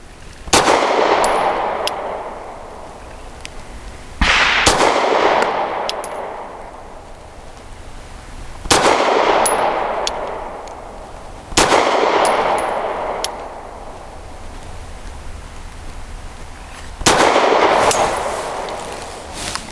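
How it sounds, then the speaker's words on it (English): Grand Power P1 Ultra pistol firing Double Tap ammunition at 7 yards, five loud sharp shots spaced a few seconds apart, each leaving a ringing, decaying echo. "We're shooting from 7 yards"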